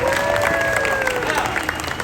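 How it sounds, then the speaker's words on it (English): Audience applause and light cheering at the SeaWorld Orlando Electric Ocean night show, a sustained crowd clapping texture with a tonal whistle-like tone gliding over it. "That definitely deserves a round of applause."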